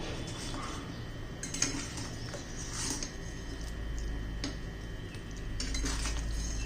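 Cluster bean (gavar) curry with crushed peanuts being stirred in a pot, a spoon giving a few sparse light clinks against the metal over a steady low background hum.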